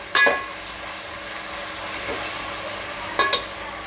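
Onions sautéing in a pan for Mumbai-style biryani, a low continuous sizzle broken by two brief sharp clanks of a utensil at the start and near the end.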